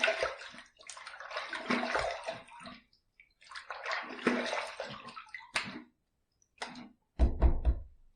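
A Parker safety razor being rinsed under a running tap, bursts of splashing water broken by short pauses, close by, with a few knocks as the razor is tapped against the basin near the end.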